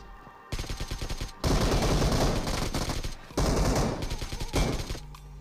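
Rapid automatic gunfire from PUBG Mobile rattles in loud, sustained bursts, three long strings of shots broken by short pauses, dense and close.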